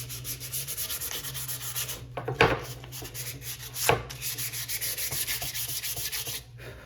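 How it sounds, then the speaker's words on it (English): Sandpaper rubs back and forth over a wooden guitar body to strip off the logo, a soft, steady scratchy rasp with two sharper scuffs, close and fairly quiet. "First thing I got to do is sand the logo off."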